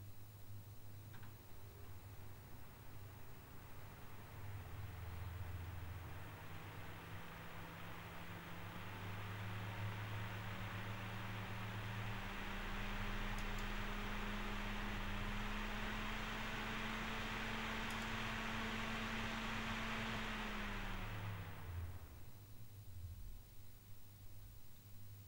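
A Noctua NH-L12S CPU cooler fan running at half speed makes a steady, fairly quiet broadband whoosh with a low hum underneath. It swells slightly in the middle and then cuts off abruptly near the end, leaving only faint background noise.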